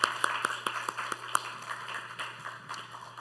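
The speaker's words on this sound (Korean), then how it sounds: "우리 섬기는 리더들을 위해서 다시 한번 뜨거운 박수 부탁드리겠습니다" A church congregation applauds its leaders with scattered, fairly sparse claps at moderate volume, thinning over a few seconds, with a steady low hum underneath.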